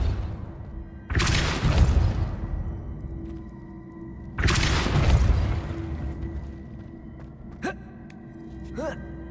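Accio and Depulso spells are cast in Hogwarts Legacy, two loud rushing bursts a few seconds apart, each fading slowly, followed by faint short sweeps, over a steady game hum.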